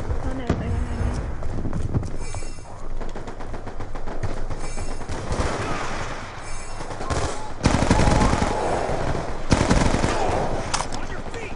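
Personal defense weapon bursts in the shooter Black Ops 2 come in repeated rapid volleys, heaviest near the end, over constant game noise and voices.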